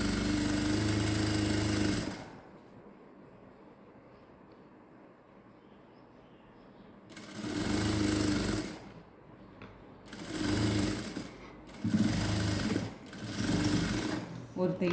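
A sewing machine stitches a puffed balloon sleeve onto a princess-cut blouse in several loud bursts of rapid whirring, separated by pauses where quiet talk and handling noise carry on.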